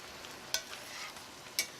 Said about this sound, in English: You can see that the pork is frying nicely and changing color as the gravy dries out.